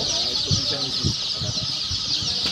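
A crowd of baby chicks and ducklings at a wholesale hatchery cheep continuously in a dense, shrill chorus, with low muffled bumps and faint voices underneath.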